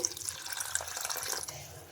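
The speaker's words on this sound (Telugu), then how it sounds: "కప్పు వాటర్ వేసుకొని బాగా కలిపేసుకుందాం" Water is poured into a flour mixture while making rumali paratha dough: a short, soft, close trickle and splash that fades after about a second and a half.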